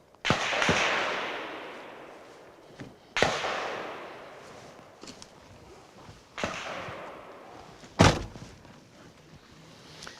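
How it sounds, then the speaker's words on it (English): Several sharp live-fire gunshots ring out during a vehicle combat demonstration, four loud reports spaced a few seconds apart, each with a long echoing decay across open ground, with no talking. "We'll give you a quick live fire demonstration"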